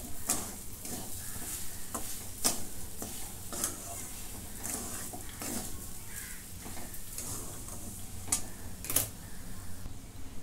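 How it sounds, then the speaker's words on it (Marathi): Grated fresh coconut and sugar are stirred in a pan with a spatula, making rhythmic scraping strokes over a low, steady sizzle, close and moderately loud. "पुन्हा याला परतून घेते"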